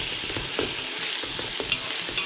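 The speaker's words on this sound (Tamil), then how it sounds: "இஞ்சி பூண்டு பேஸ்ட் போடுங்க." Ginger garlic paste frying in a pan for duck dum biryani, a close, steady sizzle broken by a few soft stirring scrapes, with no talking.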